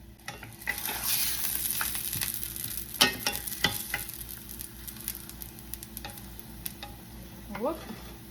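Tortillas warm in a skillet with a few tablespoons of cooking oil, giving a faint, steady sizzle with scattered clicks and scrapes of utensils against the pan.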